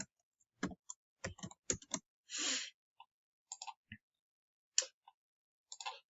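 Scattered clicks of typing on a computer keyboard, short irregular bursts of keystrokes close to the microphone with quiet gaps between them.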